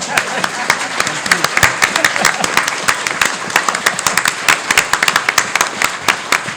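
Audience applause at a congressional district candidate forum, a steady run of many hands clapping that carries on loudly throughout, with a faint murmur of voices underneath.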